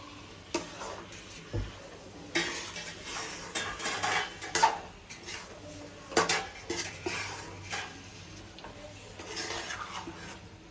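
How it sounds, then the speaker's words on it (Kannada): Mushrooms being stir-fried in a pan for mushroom fried rice: irregular metallic scrapes and clinks of a spatula against the pan over a low sizzle, close and fairly quiet. "ಇವಾಗ ಇದನ್ನ ಅಣಬೆ ಹಾಕ್ತಿದ್ದೀನಿ. ಚೆನ್ನಾಗಿ ಫ್ರೈ ಮಾಡೋದು."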